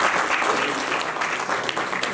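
An audience at a homeopathic medical association lecture on PCOS breaks into brisk, continuous clapping. The applause is fairly close and loud and lasts a couple of seconds without interruption.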